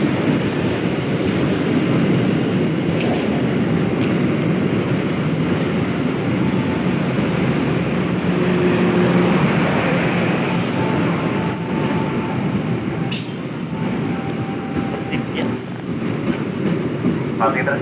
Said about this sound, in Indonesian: 2 timur hati-hati kereta api melintas langsung.